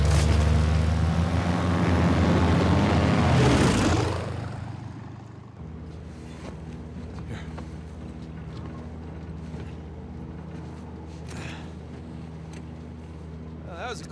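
Airplane engine drone in the video game Uncharted 4, a loud steady roar that fades to a lower, sustained hum, with people talking over it throughout.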